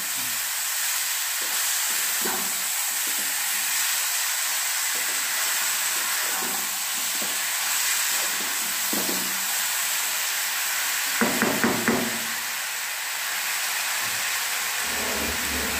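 Sugar and water simmering in a pan over a lowered gas flame, a steady close hiss and gentle bubbling throughout, with a brief clatter of utensils toward the end.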